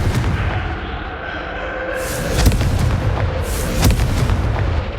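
Confringo blasting spell explosions in the video game Hogwarts Legacy, a couple of sharp booming bursts with crackling tails over a continuous rumbling game background.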